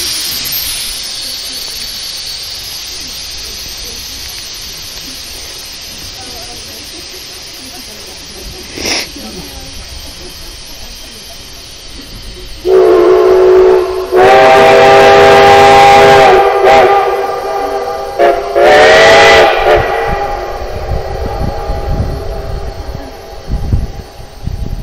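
Steam locomotive on the Cumbres and Toltec railroad: a long stretch of steady background hiss, then loud whistle blasts, one sustained and another shorter burst, with a faint voice early on.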